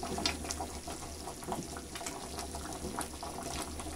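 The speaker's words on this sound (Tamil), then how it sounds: "இந்த குழம்பு நல்லா கொதிக்க ஆரம்பிச்சிருச்சு" Steady bubbling of goat leg curry simmering in a pot, a continuous low gurgle with small pops throughout, fairly quiet and close.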